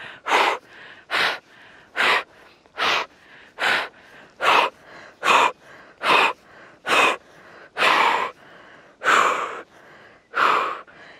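Strong, forceful breaths during a beginner yoga session for balance, about a dozen loud rhythmic inhales and exhales spaced roughly a second apart, close to the microphone with no talking.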